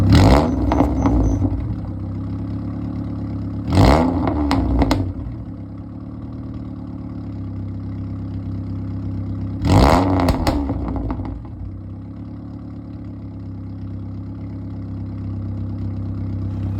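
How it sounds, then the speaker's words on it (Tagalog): An idling car engine rumbles low and steady through its exhaust, with a few short, louder revs that sputter and clatter before settling back. "napansin ko lang na mas humingi yung tunog ng muffler natin"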